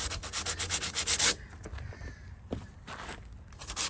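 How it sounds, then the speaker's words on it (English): Hand sanding a deck board with sandpaper, a rapid series of rhythmic scratchy strokes up close, then a pause with light shuffling before a few more passes. "I'm just talking a few passes with the sandpaper, really quick. Hand sand."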